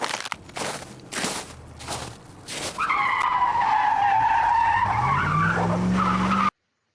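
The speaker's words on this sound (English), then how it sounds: "Sound clip 2 was obviously of a car going through some quite tight bends or quite tight turns." Car sweeping through tight bends, tyres squealing loudly in long rising and falling screeches, preceded by a few sharp crunching footfall-like impacts, then an engine note climbing near the end before the sound cuts off.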